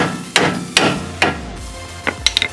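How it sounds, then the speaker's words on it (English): A hammer strikes the nut on a car ball joint bolt during a front upper and lower ball joint replacement: three loud, close metallic bangs spaced apart, then a quick cluster of lighter taps, with no talk. "if I decide to hit it with the hammer, which I'm going to, it's not going to destroy the threads on the bolt portion"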